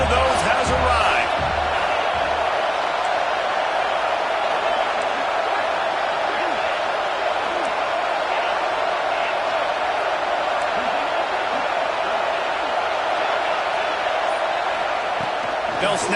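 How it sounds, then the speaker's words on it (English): A packed stadium crowd roars at a college football game between Oklahoma and South Carolina, a dense, continuous wall of cheering that holds loud and steady throughout. "This crowd knows they have to bring it in big moments, and one of those has arrived."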